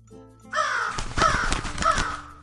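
A crow caws three times in quick succession, harsh and nearby, each call rasping and slightly descending.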